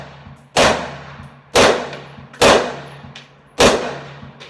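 Four loud, sharp Ruger Mini 14 rifle shots at an outdoor range, evenly spaced about a second apart, each a hard crack followed by a short decaying ring, with no talking.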